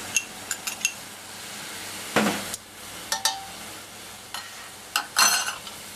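Finely chopped garlic, six cloves, is scraped into a pan of softened onions, producing a few light clinks and scrapes against the pan followed by a soft sizzle and stirring, close and moderately quiet with no talking.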